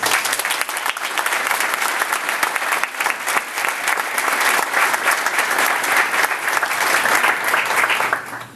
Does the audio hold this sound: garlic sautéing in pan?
no